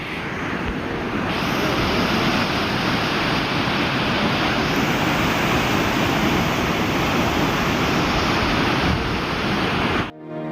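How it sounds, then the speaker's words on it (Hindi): A river flows steadily near Tawang, a broad constant rush of water that holds at an even level throughout, with no one speaking. "मस्त आवाज़ आ रही है नदी की।"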